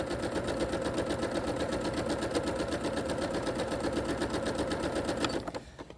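A sewing machine chain piecing fabric triangles for wildlife quilt panels runs in a steady, fast, close rhythmic whir that continues without pause for several seconds, then stops abruptly near the end.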